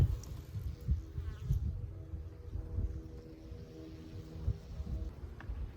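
Honey bees buzz in a dense, continuous low drone around an open hive, close and fluctuating with gusts of wind noise across the microphone.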